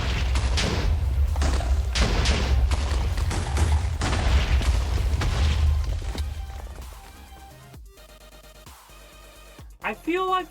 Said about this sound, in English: when you have multiple explosions next to each other, they blow up larger than if you just do one singular explosive